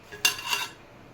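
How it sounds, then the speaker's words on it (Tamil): A cooked beetroot chapati lifted off the pan and set onto a plate, one brief bright clatter of utensil on metal followed by a short scrape, close by, then quiet. "சப்பாத்தி நல்லா வெந்துருச்சு. இப்போ எடுத்து தட்டில் மாற்றிக்கலாம்."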